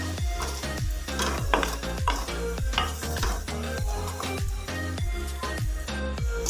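Keema dal wadiyan, minced-meat and lentil dumplings, browning in a pan, with a steady sizzle broken by regular, close scrapes and knocks of a spoon stirring them around.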